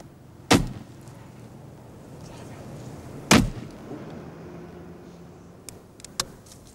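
Two loud shotgun blasts a few seconds apart at a pigeon shoot, each sharp report trailing off outdoors, followed by fainter clicks of the gun.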